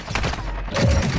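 Gunfire strikes the player in Modern Warfare 2, a quick burst of several sharp shots and impacts followed by heavier booming hits.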